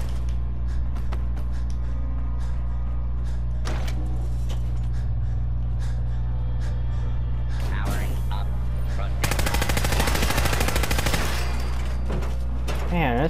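Gunfire in Fallout 4 with a modded Nuka World setup, a loud rapid burst of automatic shots in the latter half over a constant low hum, following scattered sharp clicks and impacts, with a voice talking at points.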